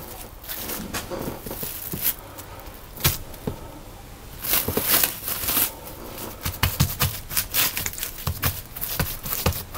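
Plastic cling film crackles and rustles as it is wrapped around pieces of pie dough, irregular crinkling bursts up close with brief sharper snaps.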